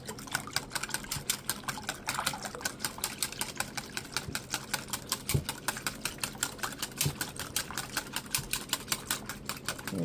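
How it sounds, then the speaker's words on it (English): A wire whisk beats half and half and eggs in a mixing bowl, making a fast, steady stream of light metallic clicks and taps against the bowl that continues without a break and sounds close by. "We're going to mix the half and half and the eggs up in that mixing bowl. Here we go, with a wire whisk."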